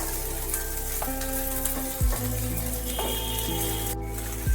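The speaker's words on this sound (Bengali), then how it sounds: "দেওয়ার পর একটু ভালোভাবে নাড়াচাড়া করে নিতে হবে।" Okra with sesame seeds sizzles and fries in a pan as it is stirred, a soft crackling hiss heard under sustained droning background music, with a brief clatter near the end.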